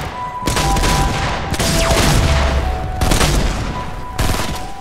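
A big gun fires in a Fortnite match, loud bursts of heavy gunfire in about four long blasts separated by brief gaps, with no voices over them.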